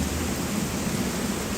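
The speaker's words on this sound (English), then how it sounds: "I thought I would never see rain in Athens, but oh my, this is intense. This is torrential rain right over here." Torrential downpour in Athens, a dense, loud and unbroken roar of heavy rain with a deep rumbling undertone and no voices.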